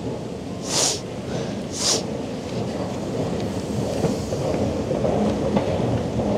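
A train passing at a European station gives a loud, deep, continuous rumble, with two brief hissing bursts near the start and the low roar swelling toward the end.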